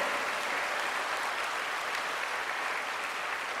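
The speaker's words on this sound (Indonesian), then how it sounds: "tepuk tangan yang meriah buat kita semuanya" Dense, steady applause from an audience at a Buddhist dhamma talk fills the hall evenly throughout, with no voices above it.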